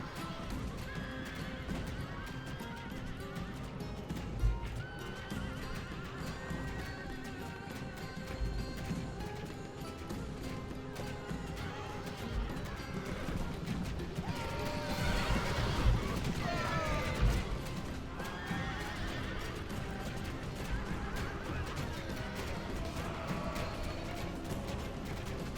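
Horses in the Rome Total War: Barbarian Invasion battle game neigh and whinny as horse archers gallop with clip-clopping hooves during a siege of Mediolanum. The hoofbeats swell into a dense, busy rush midway, with someone speaking over the action.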